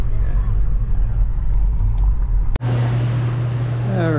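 A car drives around on Molokai with a steady low engine and road rumble under occasional talk, then cuts to a quieter indoor hum with a voice.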